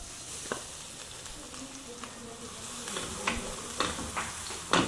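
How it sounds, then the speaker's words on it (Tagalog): Garlic frying in hot cooking oil for a Filipino bopis dish, a steady soft sizzle with scattered small pops and crackles that grow a little busier toward the end. "pag mainit na po yung mantika, yan, pag mainit na po, lalagay na po natin yung ating bawang"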